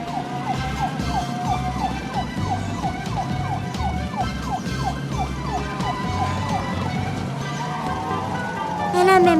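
Ambulance siren in a children's cartoon about cars, a loud wailing tone sweeping up and down repeatedly over a steady engine rumble, with a sharper rising whoop at the very end.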